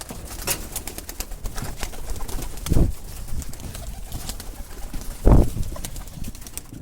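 Young racing pigeons cooing softly in a loft, low murmuring calls throughout, with two louder thumps or wing flutters close by.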